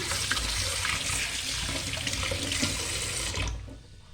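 Tap water runs steadily and loudly into a sink as raw meat is rinsed before marinating, a continuous broadband splash that cuts off abruptly near the end.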